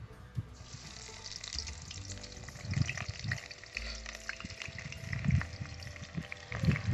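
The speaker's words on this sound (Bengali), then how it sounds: "এখন পেঁয়াজটা আমার হালকা ভাজা হয়ে গেল" Onions sizzle in hot oil with whole spices while cooking Kashmiri mutton rogan josh, a close continuous frying hiss broken by stirring scrapes and bubbling bursts, with no talk.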